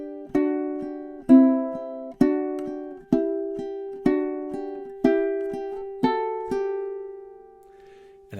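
Fingerpicked ukulele playing a gentle lullaby phrase, about eight plucked notes in steady rhythm, each ringing clearly and close, the last note left to sustain and fade alone.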